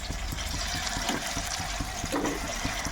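Fish pieces fry in oil with curry leaves, giving a dense, steady sizzle and crackle with a few louder pops, close and continuous throughout.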